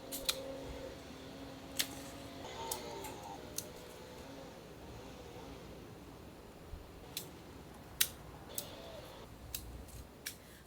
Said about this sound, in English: Cut anything that's kind of starting to die out.